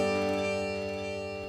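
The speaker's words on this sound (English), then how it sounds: "So this one was up 5 semitones" A sustained suspended guitar chord is pitched up five semitones, a steady tone that slowly fades, close and alone.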